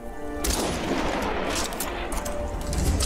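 Rapid bursts of gunfire in the strategy game Iron Harvest crackle continuously and loudly, a dense fusillade of shots with no pauses.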